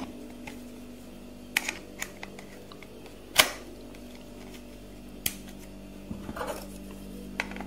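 A camera shutter fires with a Canon flash on a Pixel Pawn TF-361 radio trigger: a few sharp isolated clicks, one louder snap near the middle, over a quiet steady hum.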